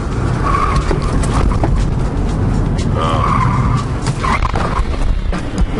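A car without brakes skids through a lane change at roughly 25 to 27 mph, with a loud, continuous tire squeal and engine roar that swell and fade in waves.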